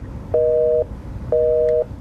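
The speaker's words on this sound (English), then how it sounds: "It's just a dial tone on repeat." A steady electronic telephone dial tone sounds twice in a regular on-off pattern, each beep about half a second, over a low background hum.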